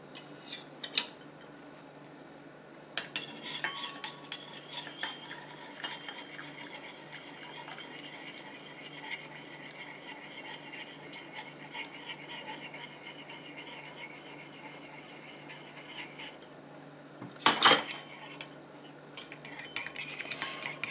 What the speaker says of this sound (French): je viens rajouter ma phase aqueuse à ma phase huileuse tout en mélangeant